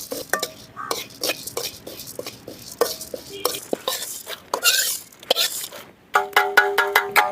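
Toor dal roasting in a pan for homemade sambar powder, stirred with a metal spoon that gives repeated sharp scraping clinks against the pan, close and clear, with a short pause before a faster run of clanks at the end.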